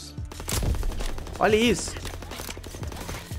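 Gunshots in a video game shooter, several sharp reports scattered through a busy mix, with someone talking briefly over them.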